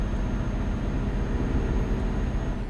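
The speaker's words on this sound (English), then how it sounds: "I have my mini fan turned on because I'm getting kind of hot" A small electric mini fan runs steadily in a room, producing a constant low broadband whoosh with no change across the moment and no voices.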